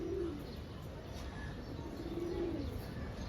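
Army pigeons of the jira-throated kind coo softly in a low, repeated murmur, with two rounded calls standing out over a faint, steady background hiss.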